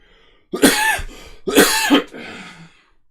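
Two loud, close coughs or throat-clearing bursts about a second apart, each a harsh rasping burst followed by a trailing breathy exhale, in a quiet room.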